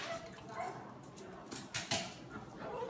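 Small dog whimpering: faint, short whines and soft yips in quick bursts, mixed with background voices.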